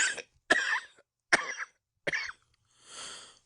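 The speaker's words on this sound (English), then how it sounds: "checked in his utterance by that same hollow cough which would never let him alone" A man gives a hollow, harsh cough, four sharp bursts in quick succession followed by a softer rasping breath, voiced by a reader performing a story passage.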